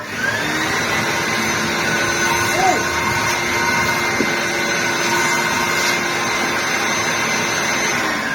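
A 1998 Dyson DC01 vacuum cleaner runs with its motor giving a loud, constant high whine and rushing airflow throughout, with only tiny shifts in pitch.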